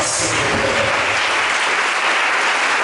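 A church congregation claps and cheers loudly in praise during a service, a thick, continuous roar of applause with no break.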